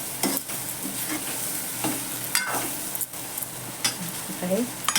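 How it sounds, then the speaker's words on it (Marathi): Peas being stirred into a potato curry in a pan, with spoon scrapes and soft sizzling frying sounds running steadily and fairly close. "मटार टाकते मी सगळे तर चांगलं हलवून घेऊ"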